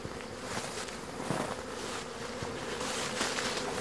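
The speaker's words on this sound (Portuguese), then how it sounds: "Lindo enxame." A honeybee swarm pours into an old beehive outdoors, producing a dense, continuous buzzing drone of many bees close by, steady and loud throughout with no voices.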